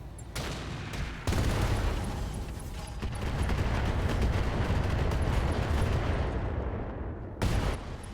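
Cluster rounds fired at a Warhammer mech in the RogueTech video game, a loud sustained barrage of overlapping blasts and rumbling impacts lasting several seconds, ending with a fresh burst near the close.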